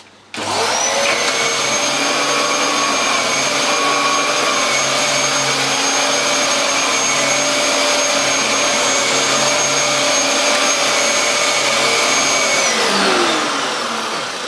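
A Dyson vacuum cleaner with its hose and wand attached starts up and runs loudly and steadily, a constant motor whine holding for about twelve seconds before spinning down.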